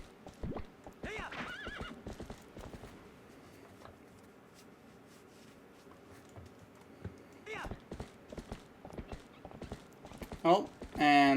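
A horse in a video game neighs and its hooves clop in a steady walking rhythm, with a few louder whinnies standing out against soft game ambience near the start and the end.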